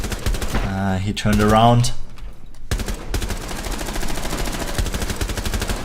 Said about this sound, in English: you can try to shoot at his feet or at his shoulder